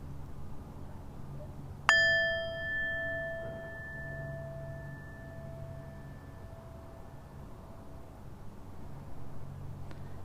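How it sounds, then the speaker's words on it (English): A single clear bell strike rings out and sustains a long, slowly fading tone in a quiet room. "I'm going to go ahead and ring the bell."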